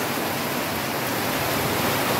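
Heavy typhoon rain pours down in a dense, unbroken hiss, loud and close, with no pauses or voices over it.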